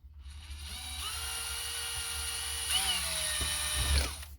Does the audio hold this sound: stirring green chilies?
no